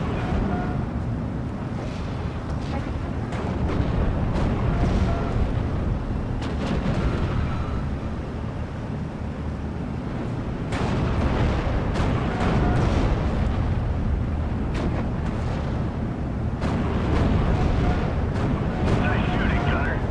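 Artillery fire in the Normandy 1944 wargame Steel Division: Normandy 44: heavy, rumbling blasts and booms that build in waves over a continuous low roar, with a voice talking over parts of it.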